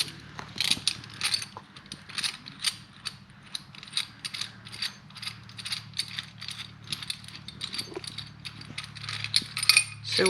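Metal clicks and clanks of a ratchet wrench working the clamp bolts on motorcycle highway bars, a steady run of close, sharp ratcheting ticks with no talking.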